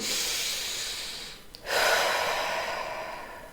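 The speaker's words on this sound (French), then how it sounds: "hop, vous prenez 3 grandes respirations profondes." Deep, slow breathing done as a calming exercise against anger: a long, close airy inhale or exhale, a brief pause, then another strong breath that tapers away, with no talking.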